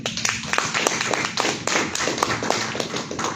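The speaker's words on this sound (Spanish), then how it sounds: "Un fuerte aplauso" An audience at a workshop applauds with many sharp, overlapping claps at a moderate, steady level throughout.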